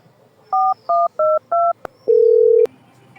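A sequence of four short dual-tone dialing beeps in quick succession, a brief click, then one longer steady tone, loud and close with no talking.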